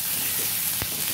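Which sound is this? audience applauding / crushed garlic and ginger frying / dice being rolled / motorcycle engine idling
crushed garlic and ginger frying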